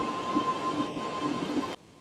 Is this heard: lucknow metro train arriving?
yes